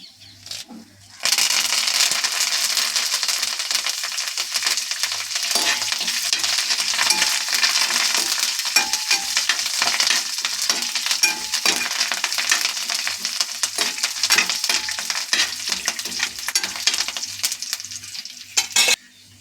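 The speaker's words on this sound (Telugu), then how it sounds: "ఎండుమిర్చి, కొంచెం కరివేపాకు వేసుకుందాం." Dried red chillies and curry leaves frying in hot oil for a tempering, a loud, bright, continuous sizzle and crackle with occasional stirring scrapes, close up.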